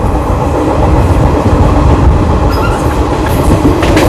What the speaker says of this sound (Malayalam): ഞാനിപ്പോൾ ഗരീബ് റാത്തിൻ്റെ ഏറ്റവും മുന്നത്തെ ജനറേറ്റർ കോച്ചിലാണുള്ളത്.